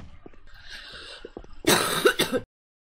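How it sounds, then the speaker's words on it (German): Loud, harsh coughing sits close to the microphone: a quieter lead-in with small throat sounds, then a burst of two or three rough coughs that stops abruptly. "Ganz schlimme Huster werde ich einfach rausschneiden."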